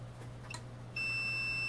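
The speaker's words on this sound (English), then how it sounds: "Got one side of my multimeter connected here. So we have continuity." A multimeter's continuity beeper sounds as the probes touch a thermistor sense point on a DeWalt 20V Max battery circuit board, giving a steady, thin, high-pitched tone that starts abruptly and holds over a low electrical hum.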